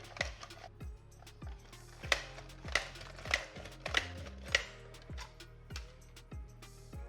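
Zucchini pressed through a slicer attachment with a guard holding it in place, a steady series of crisp cutting thuds about every half second, close but soft in a quiet kitchen.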